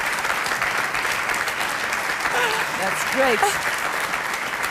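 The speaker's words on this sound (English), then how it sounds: "Can we have a round of applause?" Applause from the audience at the Eurovision Song Contest allocation draw, steady clapping throughout with a brief spoken remark over it.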